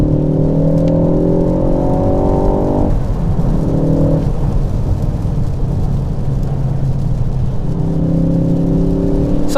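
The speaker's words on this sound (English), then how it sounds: "Right, I'm going to overtake this vehicle now." A tuned 330bhp Mk4 Ford Focus ST accelerates hard to overtake, its engine note climbing loudly through rising gear pulls with brief dips at the shifts, steady road and wind roar underneath.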